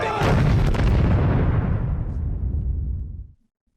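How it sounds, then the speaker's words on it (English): A massive explosion from the film Interstellar erupts at once into a loud roaring blast, then rumbles and fades over about three seconds before cutting to silence. "what just exploded?"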